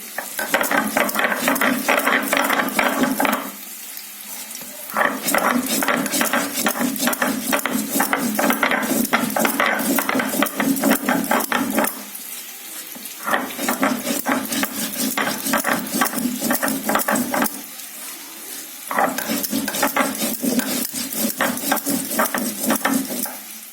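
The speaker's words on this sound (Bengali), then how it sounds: "পেঁয়াজটা ভাজা হচ্ছে আর আমি এদিকে মশলাটা বেটে নিচ্ছি।" Cumin, coriander, ginger and green chilli being ground into a paste in a home kitchen, a rapid rhythmic scraping that runs in long loud bursts separated by short pauses.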